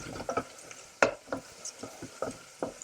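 Onions cooking in butter in a pan, a faint sizzle beneath soft, scattered stirring scrapes and light knocks, close by with no talk.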